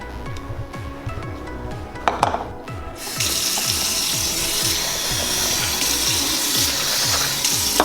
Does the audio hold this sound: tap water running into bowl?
yes